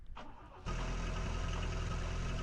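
A petrol car engine in the video game The Long Drive cranks briefly, then catches and settles into a loud, steady idle that runs to the end.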